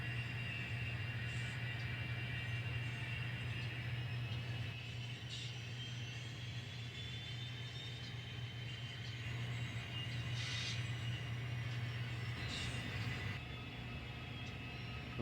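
An N scale model train climbs a hill on a layout's runaround track, a steady low electric motor hum with faint clicks and rattles running throughout, continuous and unvoiced.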